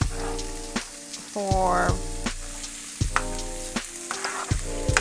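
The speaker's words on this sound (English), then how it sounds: "So now I'm gonna put the vegetables in here to cook" Vegetables sizzle steadily in a hot pan, a constant crackling fry broken by clicks and scrapes of stirring, with someone speaking briefly over it.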